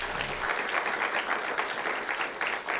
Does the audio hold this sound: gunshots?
no